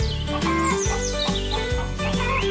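Farm chickens cluck and squawk in overlapping calls near the microphone, continuous and fairly loud against a steady background hum.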